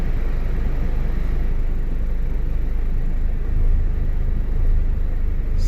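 A freshly fired-up Honda K20 engine runs with a loud, steady low rumble and whir, close by and continuous, with a slight swell toward the end and no talking.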